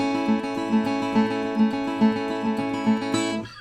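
Steel-string guitar flatpicked in quick cross-picking patterns from a Matteo Carcassi etude, a bouncy, even stream of ringing plucked notes played alone and close, ending with a final strummed chord.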